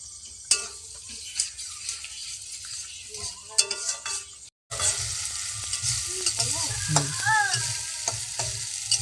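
Ground masala loosened with a splash of its grinding water, stirred and fried in a pan: quiet scrapes and clinks at first, then after a short break a louder, steady sizzle with spoon knocks.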